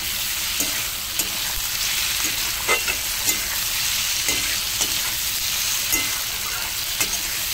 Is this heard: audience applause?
no